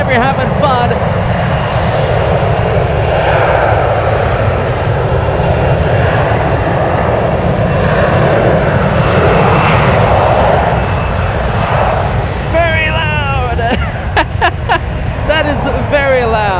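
An airliner passes loudly at San Francisco airport, a sustained roaring engine rumble filling most of the stretch before easing off, with chatter and clicks near the end.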